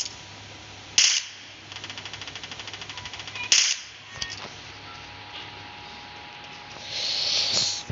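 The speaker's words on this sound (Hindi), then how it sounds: "इधर से फायरिंग की साउंड आई है।" Gunfire in the mobile game PUBG Mobile Lite: two sharp shots framing a quick string of rapid automatic pops, then a few scattered softer shots and a hissing rush, moderately loud.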